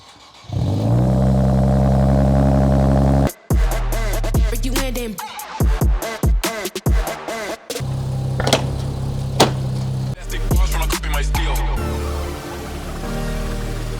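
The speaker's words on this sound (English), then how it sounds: "The car sounds healthy, the engine sounds healthy." A 2023 Nissan Z Performance, a wrecked salvage-title car, idles loudly and steadily, then a clattering stretch of door and handling knocks mixes with the engine before it settles back into a close, even running note.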